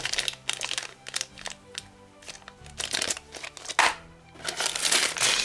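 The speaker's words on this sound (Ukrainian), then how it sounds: "І всередині у нас тут пластмасові кубики." Plastic board game dice rattled and shifted inside a box organizer for a Heroes of Might & Magic III tabletop game, giving close, scattered clicks and clatters with crinkly handling noises in uneven bursts.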